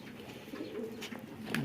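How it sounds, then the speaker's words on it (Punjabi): Prized fighting pigeons coo nearby, soft throaty calls that rise and fall over a low background, with no talking. "ਇਹ ਸਭ ਤੋਂ ਅੱਛੇ ਕਬੂਤਰ ਹਨ ਜੀ।"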